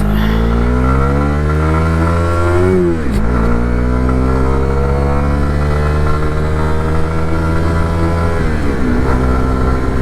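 A learner motorcycle engine drones loudly and steadily close by, its pitch dropping sharply as the rider shifts down a gear, then holding before easing again near the end.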